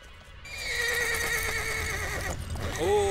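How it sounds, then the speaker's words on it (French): An agitated horse whinnies loudly and at length in the hills, its shrill, quavering neigh close by, with a snort or second cry at the end. "Pourquoi mon cheval s'énerve?"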